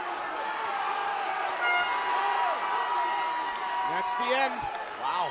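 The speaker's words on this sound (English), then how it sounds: "the crowd went nuts" MMA event crowd at the Barnsley Metrodome erupting in cheers and whoops at the end of a round, a steady loud roar under close commentary voices.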